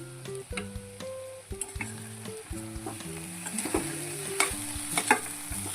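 Paneer bhurji is stirred gently in a hot pan, with a continuous sizzle and soft, repeated scraping strokes under quiet background music.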